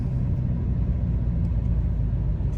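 Engine of a 2022 eighth-generation Volkswagen Golf GTI heard from inside the cabin during aggressive driving, a steady loud low rumble that continues without a break and has no talk over it.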